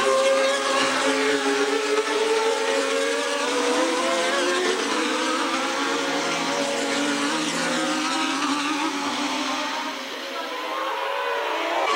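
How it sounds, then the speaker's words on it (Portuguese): Formula 1 cars, a McLaren and a Ferrari, race close together on track, their engines a loud, sustained high-pitched whine with shifting tones that continues throughout and dips slightly near the end. "Prost faz a tomada e Senna não tira o carro, batendo na traseira da Ferrari"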